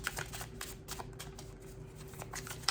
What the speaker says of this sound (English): I was shuffling and this came through and I'm like, I'm not done shuffling.